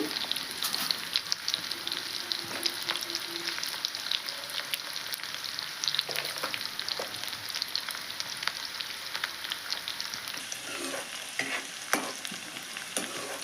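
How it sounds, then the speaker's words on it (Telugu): Tempering spices fry in hot oil with a dense, steady sizzle and crackle, punctuated by stirring scrapes, close and moderately loud from start to finish, for an amaranth-leaf chutney. "పోపు దినుసులు వేస్తున్నానండి."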